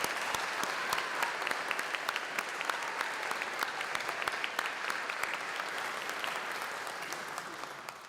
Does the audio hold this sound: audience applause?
yes